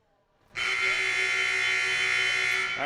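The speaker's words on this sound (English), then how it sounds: "that buzzer means we're ready for half number 2 here at the girls' game" A long, loud electronic buzzer sounds in a gym at a girls' JV high school basketball game, starting abruptly and holding a steady harsh tone for over two seconds.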